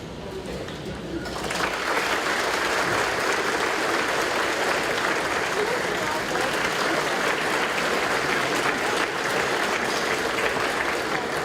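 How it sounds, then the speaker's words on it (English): A large high school graduation crowd bursts into sustained, even applause for parents and families, starting after a brief quieter moment and holding steady and loud to the end. "Seniors, please stand with me and applaud our parents, families, thanking them for all they have done to support us"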